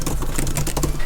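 Quick, light typing on an Apple Magic Keyboard for iPad, a patter of soft, closely spaced key clicks heard up close with no voices.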